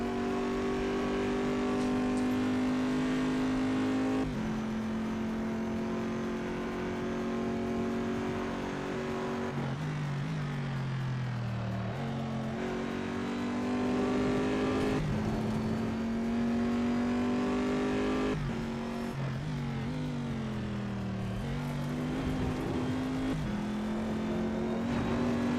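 Corvette C7 GTE race car engine in the Assetto Corsa racing game, a steady loud engine note rising and falling through gear changes and revs, continuous throughout with no talking.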